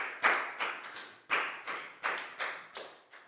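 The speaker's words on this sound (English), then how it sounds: "Big round of applause for Prel" Applause for a student in a children's English lesson comes as a handful of separate, sharp hand claps, spaced unevenly and fairly quiet, with no talking over them.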